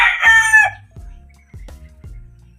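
A red rooster, the first one raised by its keeper on a farm with four-month-old chicks, crows once loudly and close, followed by a few low clucks and soft thumps.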